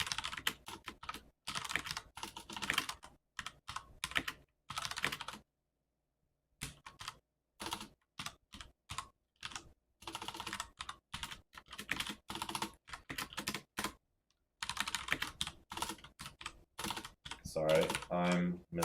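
Fast, irregular clicking of computer keyboard keys while writing C code for an OpenGL program, in bursts broken by brief pauses, close and fairly quiet.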